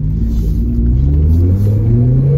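A non-turbo Volvo 850 estate accelerates hard, its engine note rising steadily in pitch as a loud, close rumble fills the cabin without interruption.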